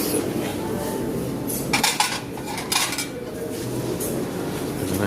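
At a hotel breakfast buffet, a plate is picked up amid clinking dishes and cutlery, with a few sharp ceramic clatters over a steady room murmur.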